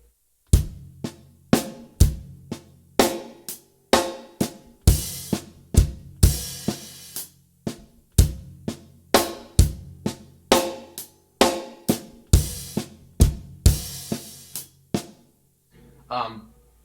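A drum kit plays a very slow beat with evenly spaced kick and snare hits and ringing cymbals, ending with a brief soft sound after the last strike.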